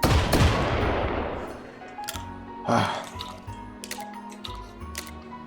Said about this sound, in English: I just love loading these double-barreled shotguns.